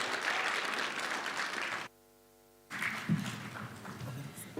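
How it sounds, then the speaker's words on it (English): An audience at a schools challenge winners' announcement breaks into applause, steady clapping that cuts out abruptly for a moment and then resumes. "Yes, you may clap."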